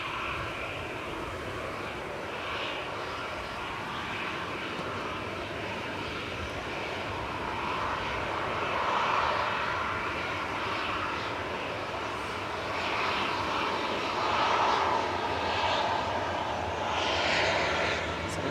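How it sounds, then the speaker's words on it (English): An EasyJet Airbus A320-200 departing Manchester for Alicante gives a continuous distant jet engine roar, rising gradually and holding broad and steady throughout, with no voices. "So, EasyJet off to Alicante. A320-200 GZRT,"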